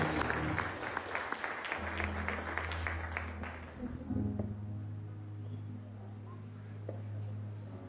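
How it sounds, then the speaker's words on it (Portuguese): A church congregation applauds together at a service, a broad wash of clapping that fades into a lower sustained tone, with a voice speaking over it. "Vamos dar um aplauso ao Senhor Jesus."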